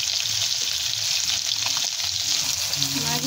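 Pieces of fish fry hard in hot oil with a steady, close sizzling hiss throughout, plus a few faint clinks near the end.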